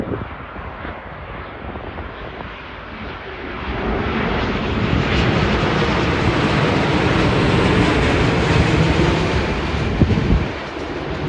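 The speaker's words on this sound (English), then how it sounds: "This is a, a 787-9 United flying from Los Angeles, UA 839 in the new livery." A United Boeing 787-9 airliner roars as it comes in to land at Sydney Airport, the broad engine noise swelling louder and holding steady, then dropping away near the end.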